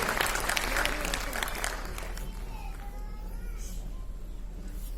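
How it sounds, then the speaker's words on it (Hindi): An audience claps loudly for a couple of seconds, then the applause tapers off into a softer scattered patter and room murmur. "एक बार जोरदार तालियां"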